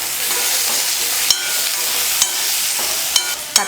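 Steady sizzling and frying of onion, coconut and tomato in a pan, with a few sharp clicks of a utensil stirring through the hiss.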